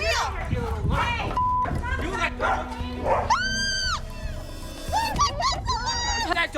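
A dog barks and yelps amid a heated street dispute between neighbours, with sharp cries rising above loud, overlapping shouting voices.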